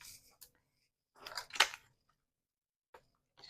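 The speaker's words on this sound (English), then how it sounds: "Just going to use my scissors to cut off the edge." Scissors snip the edge off a dried flower paper tag in a few short, close crisp bursts of cutting, separated by quiet gaps, with no talking.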